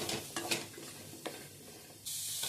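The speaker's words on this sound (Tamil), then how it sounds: "எண்ணெய் எல்லாம் தேவையில்லை, சும்மாவே வதக்கணும்." Mushrooms being dry-sautéed in a pan with no oil for a mushroom capsicum gravy: a few sharp scraping stirs and soft sizzle early on, quieter stretch, then a steady hiss rising near the end, close and fairly faint.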